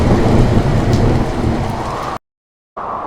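Heavy rain and thunder in a Hindi cartoon, a loud, dense downpour roar with a low rumble, cutting to silence briefly before the storm noise resumes.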